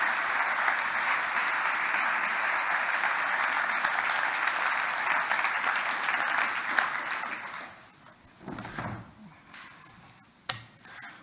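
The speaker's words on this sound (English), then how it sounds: "You guys give Kelly a round of applause." A church congregation gives Kelly a round of applause, with broad continuous clapping that fades out after about seven seconds, leaving a quieter room with a few scattered sounds and brief speech.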